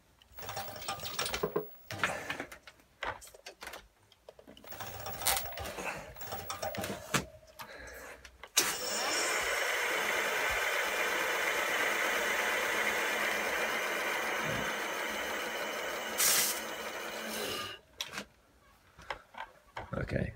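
An electric bike motor runs during a battery test, a steady, close whirring hum lasting about nine seconds that follows a stretch of scattered knocks and handling noises.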